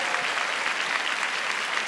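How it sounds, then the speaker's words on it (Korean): A church congregation claps for a pianist during a New Year's Eve worship concert with a tenor, a brief burst of steady, dense applause filling the hall. "한번 박수 쳐주시죠."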